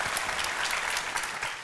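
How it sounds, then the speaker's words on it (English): A studio audience breaks into brief, dense applause, many hands clapping at once close by for under two seconds. "please clap"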